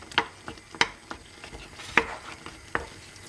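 Pepper tossed into a pot of seafood okra stew, giving a few sharp, separate splashy clacks of stirring and handling over a low, steady simmer, close and alone with no talk.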